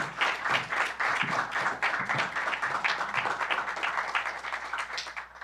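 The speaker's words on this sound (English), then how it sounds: "Could you please all give them a round of applause?" An audience at a civil discourse panel event applauds in a sustained burst of clapping that stays fairly even, then slowly tapers toward the end, with no talk over it.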